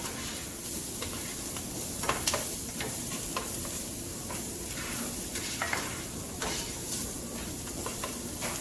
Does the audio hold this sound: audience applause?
no